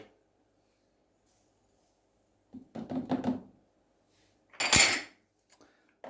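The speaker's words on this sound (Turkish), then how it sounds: "Biraz karıştıralım." A spoon stirs Turkish coffee with sugar in a pot: two short bursts of metallic clinking and scraping, close and fairly quiet, separated by silence.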